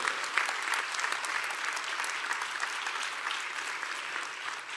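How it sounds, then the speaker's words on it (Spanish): A church congregation applauds loudly and continuously, a dense, even wash of clapping from many hands that holds steady throughout with no talk over it. "Apláudele fuerte."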